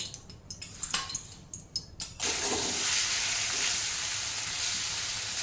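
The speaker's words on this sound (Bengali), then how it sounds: "আমি এখান থেকেই একটু তেল তুলে, গরম তেল তুলে নিয়ে এই মাছের মধ্যে দিয়ে দেবো" Hot oil spooned over fish frying in a pan, starting with a few clinks and light splashes before a loud, steady sizzling rush takes over and holds close by, with no talk.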